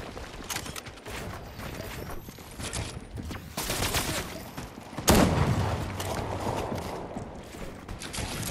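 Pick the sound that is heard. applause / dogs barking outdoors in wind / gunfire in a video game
gunfire in a video game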